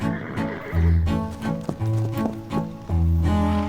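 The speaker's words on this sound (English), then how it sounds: "I found everything from horse neighing to breathing to trotting sound effects on Artlist." A horse whinnies and snorts up close while hooves clop in a loose rhythm beneath it.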